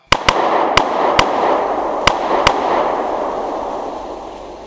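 Gunshot sound effects in a Thai radio drama: six sharp, loud cracks at irregular intervals over a steady hissing, rumbling backdrop that fades away at the end.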